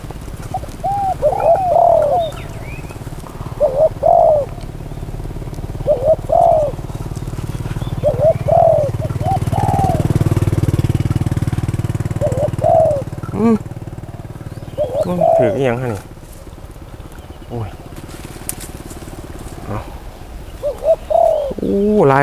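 A spotted dove decoy coos in repeated short phrases every couple of seconds, clear and fairly close, with a low engine rumble swelling in the background midway and occasional faint rustles.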